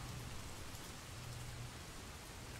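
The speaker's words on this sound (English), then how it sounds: "Yep, rainy mood." Rain ambience from the Rainy Mood app, a steady hiss of rainfall on surfaces, faint and even throughout, with no voices.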